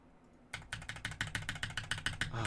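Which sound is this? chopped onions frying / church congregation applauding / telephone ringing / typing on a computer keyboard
typing on a computer keyboard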